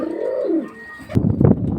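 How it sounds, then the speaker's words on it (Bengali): Pigeons at a Bangladeshi pigeon market, a close, soft rolling coo followed by a burst of fluttering wing and scuffling sounds nearby. "আর বাংলাদেশে ভাই এমনিতে নীলদুম্বা অনেক রেয়ার কবুতর"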